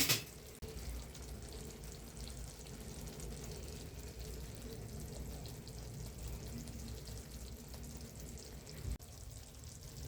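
Tomatoes and capsicum for an egg gravy sizzle faintly in a pan, a soft, steady frying hiss with a stir or two and no talk.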